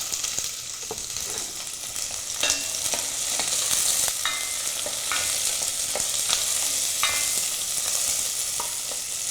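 Holland chilies sizzle steadily in hot oil for a shrimp sambal with petai, with spatula scrapes and clicks at intervals as they are stirred, close and alone without talk.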